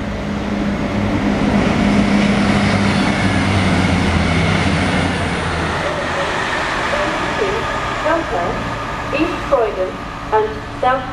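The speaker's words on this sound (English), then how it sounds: "That was an express going to Crewe." An express train passes at a British railway line, a loud sustained rumble and roar that fades toward the end, with someone talking over it.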